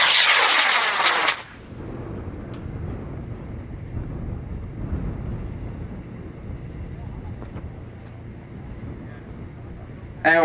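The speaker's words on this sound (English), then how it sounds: "Limper's flying his bull puppy. He's from Rochester, Minnesota. It's PML kit on an H148" A PML Bull Puppy model rocket launches on an H148 motor with a loud roaring burst at the start. The roar cuts off into a long, windy outdoor rumble of steady background noise.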